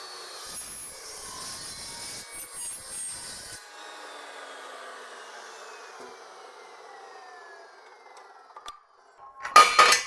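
A fast metal-cutting saw runs through a cut, whining for a few seconds, then spinning down with a long falling tone before a sharp burst near the end.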